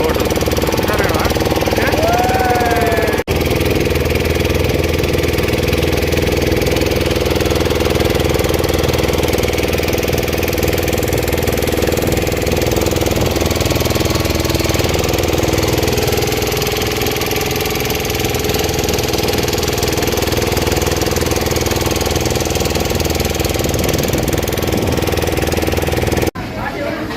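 A boat engine chugs loudly and steadily on the river on the way to Omkareshwar Jyotirlinga temple, a close, even mechanical throb lasting throughout while people talk over it.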